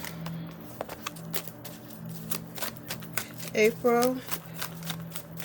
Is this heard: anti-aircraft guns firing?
no